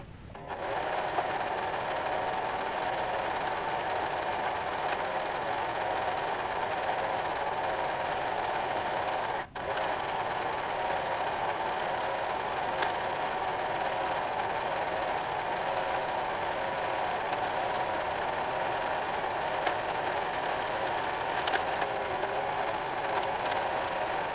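A Silver Crest embroidery machine stitches continuously with a steady, rapid mechanical whirring and fine needle clatter, pausing only for a brief break partway through before carrying on, close and even.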